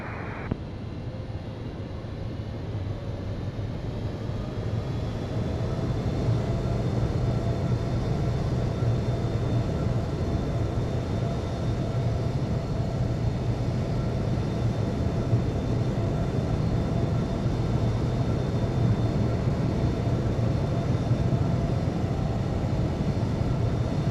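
Airliner taxiing toward runway 27 in the Infinite Flight simulator, a steady, continuous engine drone with a low rumble and faint high whine, holding an even level throughout with no voices.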